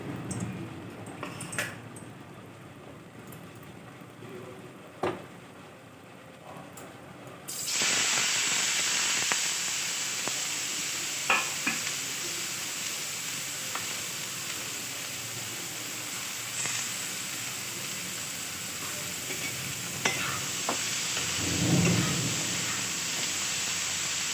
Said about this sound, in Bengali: ডুমুরগুলোকে ভেজে নেবো একবার হলুদ এবং লবণ দিয়ে